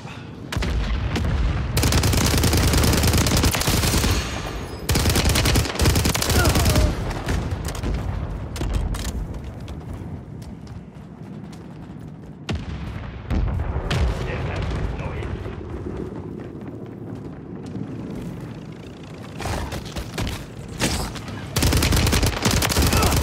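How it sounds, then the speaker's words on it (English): Mortar strike explosions in Call of Duty Modern Warfare III, a loud, dense barrage of booming blasts and gunfire-like bursts that keeps going the whole time, with brief lulls between heavy impacts. "Mortar strike inbound now."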